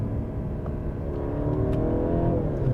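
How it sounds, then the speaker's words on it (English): A 2022 Mercedes-Benz C300 4Matic's turbocharged four-cylinder engine drones steadily and rises gradually in pitch as it revs, a continuous buzzy hum with no voices. "The sound of this engine is probably not what I enjoy hearing."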